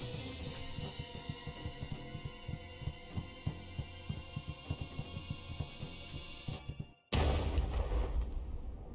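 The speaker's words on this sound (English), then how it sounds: "I think that was a gunshot." In the video game Night in the Woods, a single sudden loud gunshot blasts out after a long stretch of rhythmic heartbeat-like thumping, then trails off into a ringing, decaying rumble.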